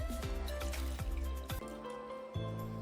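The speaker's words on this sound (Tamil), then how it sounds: "பருப்புல தண்ணி சேர்த்து நல்லா ஒரு 2ல இருந்து 3 வாட்டி நல்லா அலசிக்கோங்க" Water sloshing and pouring as lentils are rinsed for adai dosa batter, with repeated splashes and drips in a bowl, close and moderately quiet.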